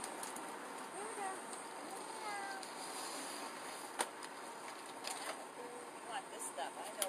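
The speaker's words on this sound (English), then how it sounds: "Feed the cats first." Cats meow faintly outdoors on a bright, sunny street during a feeding round in Detroit, thin scattered cries over a steady hiss of background noise with a few sharp clicks.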